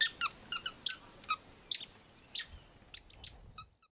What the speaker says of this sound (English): I really love these sociable weavers, and it's always a treat to see them at their nests in these arid areas